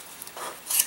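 A few short, dry rasps of sanding on model airplane wood, close up, with quiet gaps between strokes.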